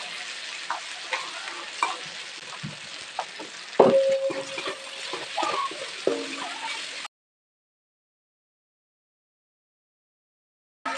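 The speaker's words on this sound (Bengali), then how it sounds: "দেখো মশলাটা ভাজা হয়ে গেছে এরপরে আমি দিয়ে দিচ্ছি ভিজে রাখা চাল" Frying spices with soaked rice added to the pan: a soft sizzle under irregular clacks and scrapes of a stirring spoon, close by, for about seven seconds before falling silent.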